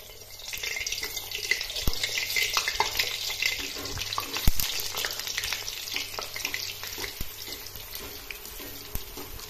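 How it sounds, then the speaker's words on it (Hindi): Bhature, Delhi-style fried bread, frying in hot oil over a medium to high flame, giving a steady close sizzle and bubbling crackle with a few sharp clinks from the pan. "तेल हमारा गरम हो चुका है। अब मीडियम टू हाई फ्लेम पर अपने भटूरों को फ्राई करेंगे।"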